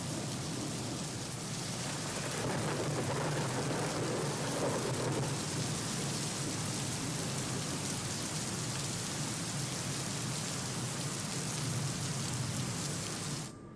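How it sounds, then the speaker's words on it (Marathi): Heavy rain pours down steadily in the Kedarnath valley, a dense continuous hiss with deep thunder rumbling underneath, and no voices are heard. "केदारनाथ घाटीत मुसळधार पाऊस कोसळतोय"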